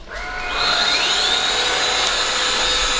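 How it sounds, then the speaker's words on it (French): A Tineco cordless vacuum cleaner spins up from near silence into a loud, steady, high-pitched whine with a rushing airflow hiss. It runs on alone, close to the listener, with no talking. "Émilie et Florent nous ont ramené le Tineco qu'on avait acheté là-bas."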